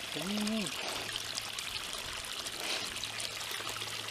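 Water runs from a garden hose in a quiet, steady trickling pour, with a brief voice at the start.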